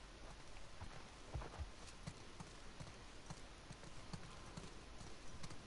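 Horse hooves clip-clop in a quick irregular rhythm over a soft hiss in the video game The Last of Us Part II, fairly faint and steady throughout.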